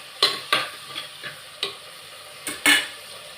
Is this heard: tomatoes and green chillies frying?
yes